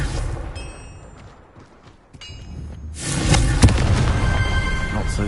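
A Confringo fire spell blast in Hogwarts Legacy bursts out loudly after a quieter stretch, a booming, crackling explosion that rolls on for a couple of seconds, with a voice talking beneath it.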